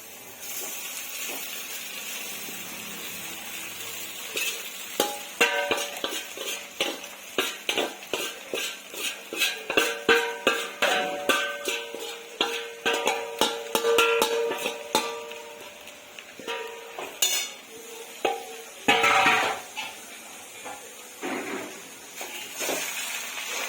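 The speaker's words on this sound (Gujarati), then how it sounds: "તો હવે આપણે આ પૌવા નાખી દઈશું" Poha, flattened rice, is tipped onto cooked potatoes in a pan for bateta poha and stirred with a spoon. Repeated close scraping and clattering strokes come in irregular rhythm, with no talking.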